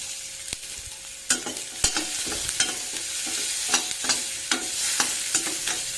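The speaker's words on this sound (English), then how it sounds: "Fry for a minute. add curry leaves also." Chilli, onion and curry leaves sizzle steadily in hot oil in a pan while preparing flattened rice, with sharp spoon scrapes and stirring clicks recurring over the close, continuous frying hiss.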